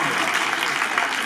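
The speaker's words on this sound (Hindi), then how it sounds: "उनका जवाब ठीक हुआ, तालियां तो बजाएं।" Audience clapping for a correct answer at a school quiz on Allama Iqbal, a brief, even wash of applause filling the whole moment with no pause.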